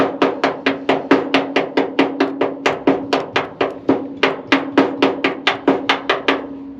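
A hammer taps repeatedly and evenly on cardboard, cutting a gasket for a 1960 Chevrolet C-10 engine, about two sharp close blows per second ringing with a faint metallic tone, with no talk.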